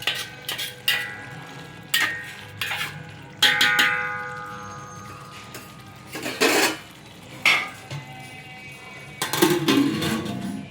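A flat spoon mixes masala into chicken in a pot for dum biryani, making irregular metallic scrapes and clanks against the pot. The bursts are loud and close, with quiet gaps between them and a soft sizzle underneath.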